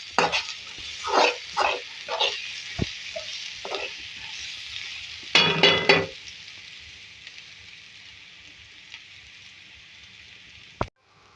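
Ginger garlic paste frying in a pan, with bursts of scraping stirring strokes over a soft sizzle that then settles into a quieter steady fry, ending with a sharp knock.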